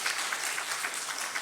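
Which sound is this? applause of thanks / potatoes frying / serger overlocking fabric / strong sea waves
applause of thanks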